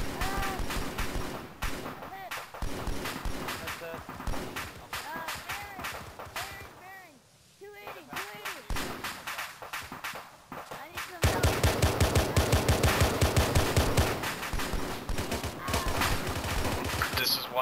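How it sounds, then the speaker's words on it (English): Heavy gunfire rattles through an Arma 3 OPTRE battle, with sustained machine-gun bursts and scattered shots, briefly easing before a loud rapid barrage returns, while soldiers talk over radio throughout. "We are taking heavy fire"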